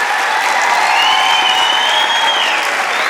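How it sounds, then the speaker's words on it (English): Audience applause for a speaker at a medical society event, a dense, steady wash of clapping from a room full of people, loud and continuous with some cheering mixed in. "I need a huge round of applause."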